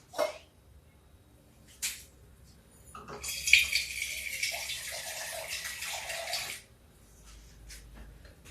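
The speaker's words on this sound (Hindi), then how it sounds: "थोड़ा सोडा डाला, पानी डाल देते हैं।" Water is poured into lentil batter, a short running splash lasting a few seconds after a couple of light knocks, with quiet pauses before and after.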